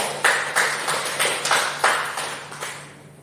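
Applause in a classroom for a student who has just finished presenting: a handful of separate claps, about eight, spaced unevenly over a few seconds, fairly near and moderately loud, with no talking over them.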